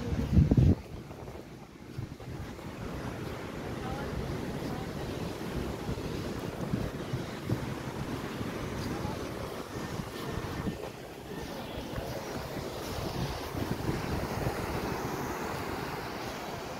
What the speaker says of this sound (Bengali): এদিকে সমুদ্র, দীঘা